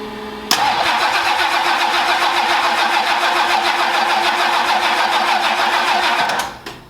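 Turbocharged diesel Oldsmobile engine starting up: a sharp crank catches at once and settles into a loud, steady, clattering rumble for several seconds, then cuts off abruptly.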